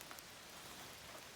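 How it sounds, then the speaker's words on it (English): Steady rain falling on a quiet temple complex in Shirakawa, Fukushima, a soft continuous hiss of drops on surfaces, with wind moving through the trees; no crow calls stand out. "Only the sound of the crows and the rain and the wind in the trees."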